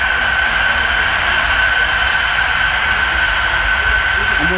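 A very long Union Pacific model coal train of 283 cars rolls along a layout at the Colorado Model Railroad Museum, giving a steady, continuous rumble and hum with a constant tonal whine above it.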